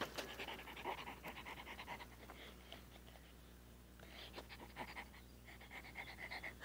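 A dog pants quickly and rhythmically close by, breathy huffs running continuously with some faint mouth and licking sounds mixed in.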